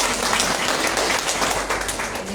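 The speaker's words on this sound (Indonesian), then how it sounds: "Tepuk tangan untuk Pak Kaharjo." Seminar audience applauding a long-serving alumnus, a dense, steady wash of many hands clapping at close range with no voices, holding evenly throughout.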